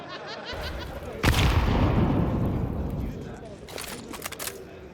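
Grenade detonating on an opponent's doorstep in a Counter-Strike 2 tournament match: a sharp loud blast with a rumbling decay, followed by a few gunshot cracks, while a commentator talks throughout.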